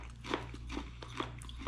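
Crunching bites on sweet chili cracker-coated peanuts from a Filipino snack bag, several crisp close-up chews in a steady rhythm over a low background hum.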